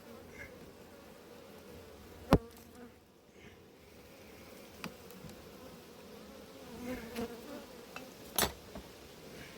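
Bees and a wasp buzz around an apiary hive, a soft, continuous insect drone at low level with a couple of sharp clicks or knocks cutting through.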